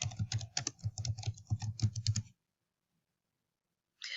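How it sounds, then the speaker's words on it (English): Quick, close keystrokes clatter on a computer keyboard as a search term is typed, a brisk burst of clicks lasting about two seconds, then silence before a voice begins. "As an example, I'm going to type in animal welfare."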